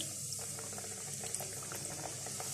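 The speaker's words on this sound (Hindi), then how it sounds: "चिकन बहुत अच्छी कोट हो चुकी है, अब मैं फ्राई करूँगी। तो ऑयल गरम है, एक एक करके हम डालते जाएंगे" Coated chicken pieces fry in hot oil, a steady close bubbling sizzle with small pops and crackles throughout, no voices heard.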